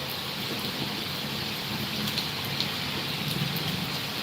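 Steady rain pours down in a continuous hiss, falling on surfaces with a few faint droplet taps and no talking.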